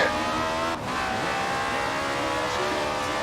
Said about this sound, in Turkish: Komple drift atıyor bunu.